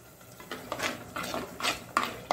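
Metal utensils clatter and scrape against a pan in short, irregular bursts as masala for prawn pulimunchi fries over high heat, a close stirring and scraping rhythm with no voices.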